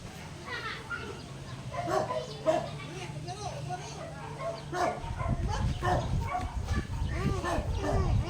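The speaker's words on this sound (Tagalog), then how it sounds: "Aso." A dog barks repeatedly in a lively outdoor setting while people talk over it and other background commotion continues throughout.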